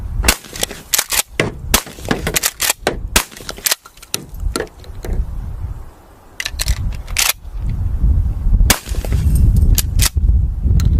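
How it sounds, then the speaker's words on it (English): A shotgun is fired at small pieces of cinder block and a license plate, giving a rapid series of sharp, loud cracking blasts, clustered early and then spaced out, with near-silent gaps and rumbling noise between them. "But instead of long range with the shotgun, We have 2 small pieces of cinder block with the license plate, so let's let her rip."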